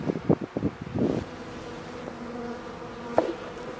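Honeybees buzz in an opened hive with a loaf of sugar at the top, a steady droning hum broken by a few louder close passes near the start and one sharp burst later.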